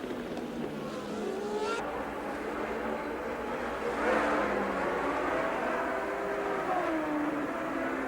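1982 Formula 1 race cars scream past on track, with overlapping high-pitched engine whine and Doppler sweeps over a steady crowd-like background roar.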